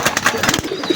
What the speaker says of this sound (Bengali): আলিওয়ালা টেডি কবুতর এটা